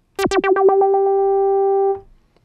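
A Bazille synth tone with a wobbling, pulsing filter sweep, its cutoff modulated by an oscillator, settles into a steady sustained note, then cuts off abruptly; no voices.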